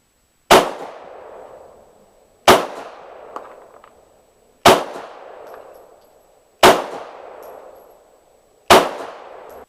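Five loud, close gunshots fire from a Glock with a .40 slide fitted with a 9mm barrel and fed from a 9mm magazine. The evenly spaced single shots come about two seconds apart, each with a sharp crack and a short ringing decay.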